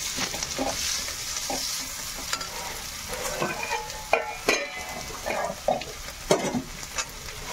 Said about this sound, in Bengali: একটু কষাই নেবো আলুটা, একটু কম করে নিলাম।